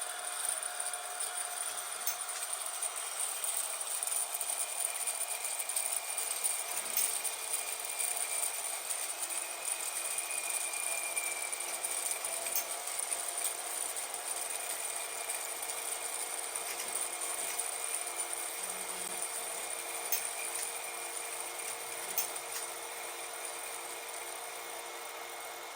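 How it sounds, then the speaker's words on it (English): A lubricated machine spindle spins freely as it coasts down, a faint steady whine with high tonal lines slowly fading over the long stretch, with no other sound around it. "Finally, the spindle comes to a complete stop."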